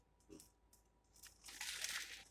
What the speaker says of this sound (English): Oh, I heard that crunch from here.